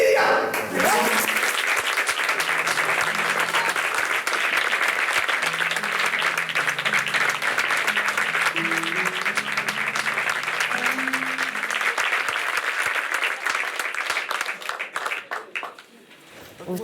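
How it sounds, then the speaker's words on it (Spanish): An audience applauds loudly and steadily for a long stretch, dense clapping fading near the end, with music or a voice faintly underneath. "démosle un fuerte aplauso"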